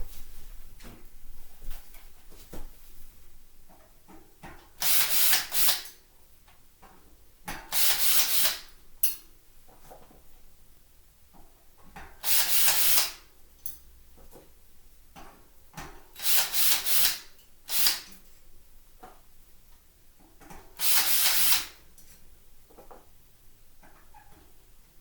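A drill works loose the disc brake rotor bolts on a Giant XTC mountain bike, five short whirring bursts separated by pauses filled with faint clicks and handling of the parts.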